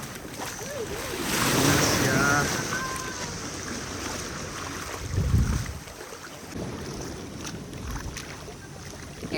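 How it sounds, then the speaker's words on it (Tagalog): Sea waves wash onto Kasay Beach with a low, rolling rumble, mixed with gusting wind noise on the microphone and a few surges that swell and fade over several seconds. "Eto na ang dagat."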